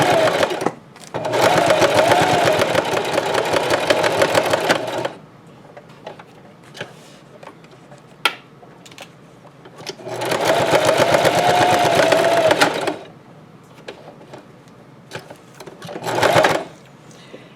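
A sewing machine back-stitches a Dollar Tree potholder being made into a purse caddy, running in two long steady bursts of rapid needle chatter with quiet pauses and a short final burst, close and loud.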